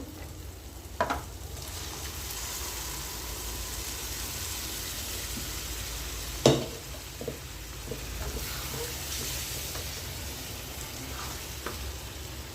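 Boiled chickpeas fry in a hot pan with spices, fenugreek leaves and green chillies, making a low, even sizzle. Two sharp knocks of a utensil come at about one second and six seconds.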